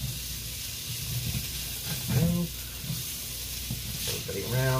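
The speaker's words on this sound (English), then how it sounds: "The cold sauce is going to sort of shock the onions" Onions and frozen vegetables sizzle in a pan with cold sauce for chicken fried rice, a steady close hiss broken by stirring scrapes and a few brief low clunks.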